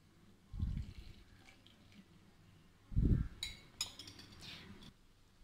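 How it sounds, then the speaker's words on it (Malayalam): Yeast mixture poured into a bowl of flour and salt for stovetop pizza dough, two soft low splashy pours followed by light clinks and scraping of utensils, close and quiet, with no speech. "ഇനി ഇതിലേക്ക് നമുക്ക് നമ്മൾ നേരത്തെ തയ്യാറാക്കി വെച്ച ഈസ്റ്റിൻ്റെ മിക്സ്ചർ ഒന്ന് ഒഴിച്ചു കൊടുക്കാം."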